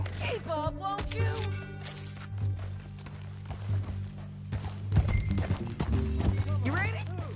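Horse hooves clip-clopping in Red Dead Redemption 2, rhythmic hoofbeats under talking voices, with a horse snort or whinny and a hum running underneath.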